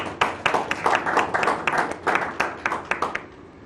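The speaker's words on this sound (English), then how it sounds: "Round of applause, please." Audience applause at an awards ceremony, a dense run of clapping from a crowd that carries steadily for several seconds before thinning and fading out at the end.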